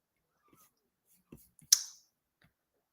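A couple of faint computer mouse clicks followed by one sharp, crisp click, close and quiet in an otherwise hushed room, with a little soft speech-like sound.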